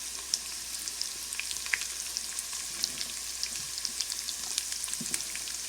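Chopped garlic and cumin seeds frying in hot oil, a steady close sizzle with scattered crackles and pops, no voices.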